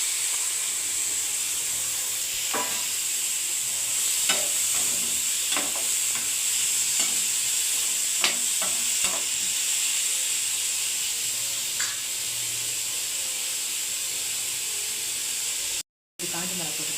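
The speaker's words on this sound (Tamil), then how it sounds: "போட்டு நல்லா வதக்கலாம்" Tomatoes, ginger and garlic sautéing in a pan, a continuous bright sizzle and hiss with occasional scraping stirs, close and steady, with a brief dropout near the end.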